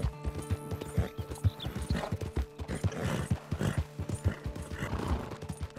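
Horse hooves clip-clop at a steady trot in Red Dead Redemption 2, close and rhythmic, with a neigh and a few snorts. Game sounds sit underneath, and no one talks over it.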